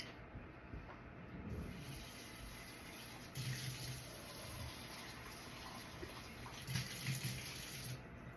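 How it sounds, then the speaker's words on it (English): Tap water running steadily into a sink while a bowl and spoon are rinsed underneath, a faint continuous splashing hiss with a few louder splashes. "I'm gonna wash this bowl out and this spoon."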